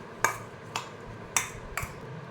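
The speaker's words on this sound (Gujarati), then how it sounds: "હવે આ બધું આપણે પ્રોપર મિક્સ કરી લઈશું" A spoon mixes oregano, garlic sizzler seasoning and black salt for a quick biscuit snack, giving four crisp metallic clinks against a dish at uneven intervals, close and clear against a quiet background.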